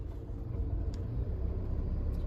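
A car eases off from a standstill in first gear during a driving lesson, its engine a low, steady rumble heard from inside the cabin, smooth and unbroken with no talk.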